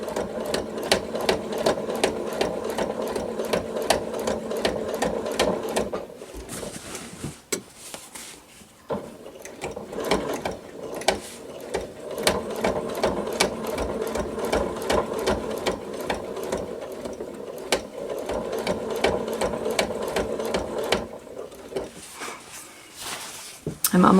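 A sewing machine runs in steady, slow bursts while stitching binding onto a quilt, its rapid needle clatter pausing briefly for pivots before carrying on, close and fairly loud throughout.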